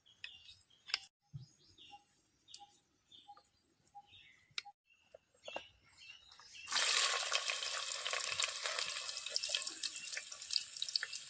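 Oil for tempering heating in a pan for a Konkani squid fry in a village kitchen: faint ticks and small background sounds, then a sudden loud, steady hiss of sizzling that continues to the end.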